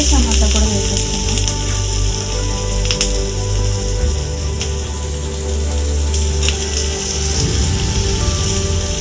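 Onions and tomato frying in a pan for egg curry, a steady sizzle and crackle that carries on throughout under background hum.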